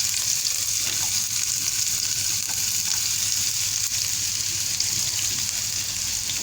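Chopped onion stirred into a little hot oil in a pan, giving a steady, close sizzle with faint scraping of stirring throughout, no voices.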